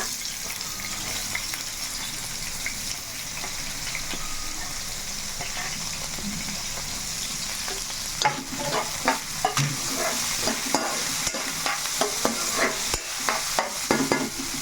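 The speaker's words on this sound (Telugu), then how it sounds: "ఇప్పుడేమో ఆనియన్స్ వేసేసుకోవాలి" Onions frying in a hot pan with green chillies already added for a chicken dish, a steady loud sizzle that turns into repeated scraping and stirring clatter in its second half, with no talk.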